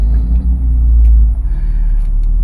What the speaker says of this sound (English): Let me just give it a brake torque.